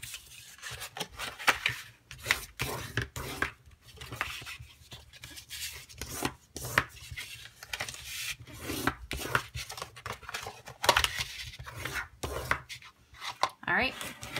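A bone folder burnishes creased paper for a Christmas treat box, producing close, brisk rubbing and scraping strokes in quick repeated bursts with no talking.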